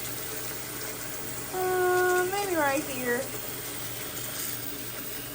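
Kitchen sink filling from the running tap to thaw two fish, a steady water rush throughout, with someone speaking briefly over it.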